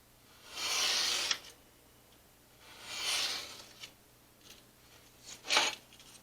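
Scissors snip through a gel plate print in three close, quiet strokes: two longer crisp cuts followed by a short final snip, with light rustling of paper in between.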